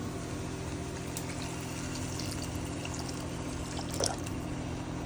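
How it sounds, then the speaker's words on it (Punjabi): Water poured into a cooking pot of spiced food in a home kitchen: a steady, close, continuous wash of liquid over a low mechanical hum that runs the whole time, with one slight swell near the end and no talking. "ਥੋੜਾ ਜਿਹਾ ਪਾਇਆ ਪਾਣੀ ਪਾਣੀ ਪਾਉਨੇ ਆ ਵਿੱਚ"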